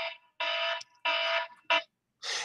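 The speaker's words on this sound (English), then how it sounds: "I just had my alarm go off" An alarm goes off with repeated loud electronic beeps in short bursts of about a third of a second, close by, with no talk over it.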